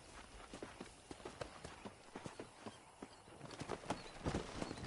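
Horses walk through the Red Dead Redemption video game world, their hooves making irregular, fairly close clip-clop beats over a quiet ambient background.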